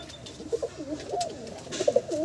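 Pigeons of a fancy breed coo in soft, repeated rolling calls close by, several throaty phrases over a quiet background.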